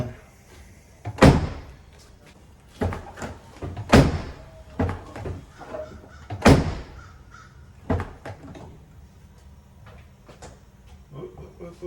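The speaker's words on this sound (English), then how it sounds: "I'm just gonna open and close the doors, just see if I could get anything to show up here" Doors of a GMC vehicle being opened and closed repeatedly, several sharp slams and thunks at irregular intervals, fairly close, with quieter clicks and handling noise between them.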